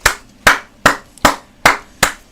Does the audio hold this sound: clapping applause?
yes